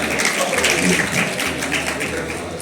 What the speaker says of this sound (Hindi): मनोज सर के लिए एक बार जोरदार ताली everyone